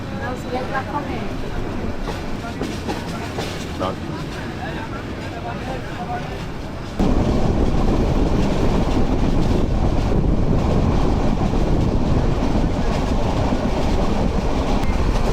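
The Kishoreganj Express runs between stations with a constant loud rumble and clatter, heard from on board, that suddenly grows louder and rougher halfway through, as if a window or door opened onto the rushing noise.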